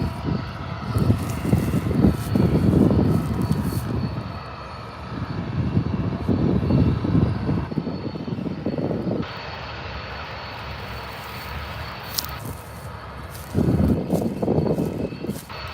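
An aircraft engine roars and rumbles at a distance at Adelaide Airport, rising and fading over about sixteen seconds as a plane lands, with light wind and no talking.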